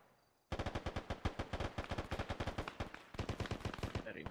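Machine guns fire in a video game, rapid bursts of loud shots in a steady rhythm after a brief quiet start, with a short pause before another burst.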